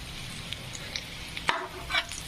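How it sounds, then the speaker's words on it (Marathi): Boiled colocasia (alu) leaves fry in a pan with a soft, steady sizzle and a few sharp stirring clicks and scrapes. One louder crackle lands near the middle, and there is no talking. "आळूचे पानं मस्तपैकी असे उकडून घेऊन फ्राय करत आहोत"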